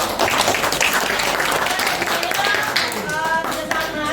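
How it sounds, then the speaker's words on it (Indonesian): Applause from a classroom audience during a coding and artificial intelligence teaching session, with dense, sustained clapping and some talk mixed in. "Tepuk tangan bagi semuanya."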